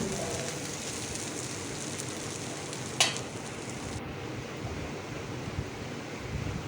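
Clam meat stirred and roasting in a pan gives a continuous soft sizzle with scraping stir sounds, a brief sharp clink near the third second, and no voices.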